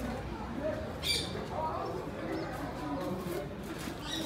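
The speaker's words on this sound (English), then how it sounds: "so many birds, yeah." Pigeons coo softly amid a large flock of birds at an outdoor historic monument in New Delhi, blended with diffuse crowd murmur and the low voices of nearby people.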